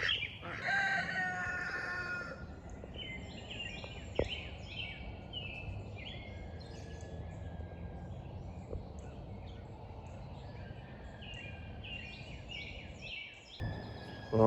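Chickens cluck softly and steadily in a backyard garden, while a rooster crows several times in a row, moderately near and clear over quiet outdoor ambience.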